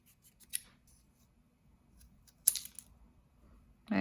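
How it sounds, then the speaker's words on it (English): Scissors snip off excess paper while cutting an upside-down V shape for a craft fence, with a couple of short crisp cuts near the start and middle and another at the end, against a quiet background. "I'm going to cut off the excess"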